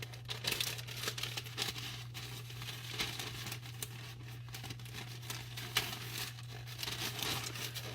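Paper being folded while drying flowers, heard as faint, continuous crinkling and rustling over a steady low hum, close and quiet throughout, with no talking.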